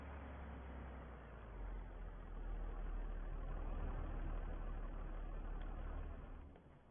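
A tractor engine idles steadily at close range, a low continuous rumble holding level through the clip with no talk over it.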